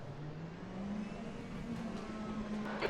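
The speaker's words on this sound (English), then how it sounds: "Keeping the revs in a good spot, not too many, but also not too few." A race car engine in a racing video game is held at steady revs on the starting grid, giving a continuous humming drone that climbs slightly in pitch, close and moderately loud.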